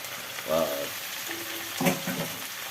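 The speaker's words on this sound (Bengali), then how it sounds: "চাপা খুলে একটু নাড়িয়ে আলু কুমড়ো ঝিঙে দিয়ে দিলাম" Potato, pumpkin and ridge gourd being stirred in a hot pan, with soft sizzling and scraping in short bursts and a brief voice-like tone partway through.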